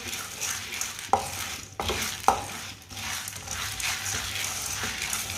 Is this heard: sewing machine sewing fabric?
no